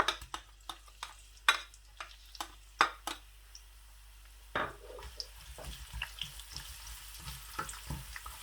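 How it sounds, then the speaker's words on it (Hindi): Onions go into hot oil in a pan for potato bhujia, with sharp metallic taps and scrapes, then a burst of crackling sizzle that keeps spitting and popping close by. "माशाल्लाह ऑयल गर्म हो चुका है। सबसे पहले मैं प्याज जो है वो ऐड करूंगा।"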